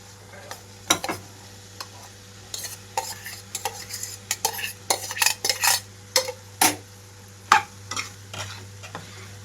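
Cooked rice tipped into a pan of tomato masala and stirred, a quiet background hum punctuated by irregular sharp spatula clanks and scrapes against the metal pan, with a soft sizzle beneath.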